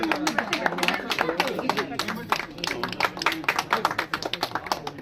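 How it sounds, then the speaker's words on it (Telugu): An audience applauds at the inauguration of a new orphanage building, with dense, steady hand claps running throughout as people talk over them. "క్లాప్స్ క్లాప్స్ కొట్టండి క్లాప్స్"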